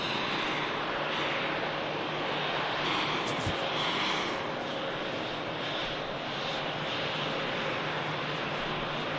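Embraer jet in Scandinavian livery at Manchester Airport, a steady, loud engine roar with a constant whine that holds level throughout, no talk over it.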